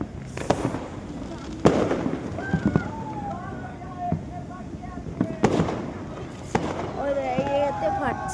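New Year fireworks bursting overhead, several sharp bangs spaced irregularly with crackling and whistling trails, while people talk nearby.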